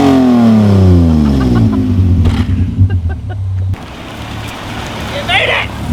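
A BMW E36 M3 engine, running again after crash repair, idles and revs loudly up close, with engine pitch falling after a rev and people talking over it.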